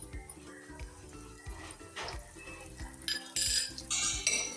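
Crushed rice roasting in ghee is stirred with a metal spoon in a pan, giving repeated scraping clinks and a soft sizzle that grow busier and louder toward the end.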